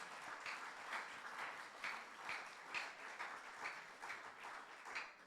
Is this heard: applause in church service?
yes